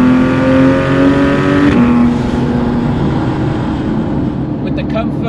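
A Porsche 911 GT3 of the 991.1 generation accelerates hard, its loud engine note climbing in pitch, dropping briefly at a gear change, then rising again up close.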